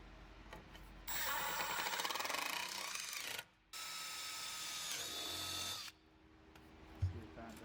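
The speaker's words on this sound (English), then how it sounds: "Match drill with a 1/8 inch drill bit and install 2 screws" A power drill with a 1/8 inch bit match-drills into a Humvee/Hummer H1 dashboard in two sustained whining bursts, each a few seconds long, with a brief pause between them. The drilling is loud and close.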